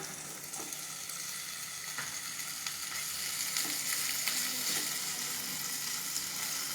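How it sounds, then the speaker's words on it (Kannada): Paneer frying in a pan gives a continuous close crackling sizzle with a few faint clicks of utensils, growing slightly louder partway through, without speech. "ಇದು ಫ್ರೈ ಆಗ್ತಾ ಇರಲಿ"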